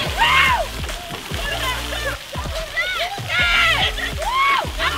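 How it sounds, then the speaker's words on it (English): People splash into water one after another, with loud sloshing bursts under excited shouting and chatter from a group at a lakeside outing. "thought it was a great idea to hop in the water"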